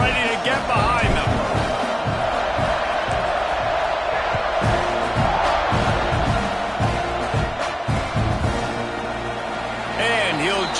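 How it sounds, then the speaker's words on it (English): A stadium crowd roars steadily at a college football game in College Football 26, a broad continuous cheer with bursts of whoops, heard under a commentator talking throughout. "this crowd now ready to get behind them"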